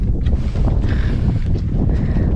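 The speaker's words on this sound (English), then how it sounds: "it is snowing and windy and super cold" Cold wind gusting through a snowstorm around a cabin, a steady, loud rushing roar with buffeting gusts against the microphone and no voices.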